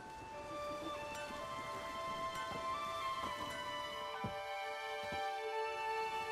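Rain falls steadily in The Witcher 3 Wild Hunt on PS5, a faint, even patter under tonal game ambience with a few soft ticks. No one speaks.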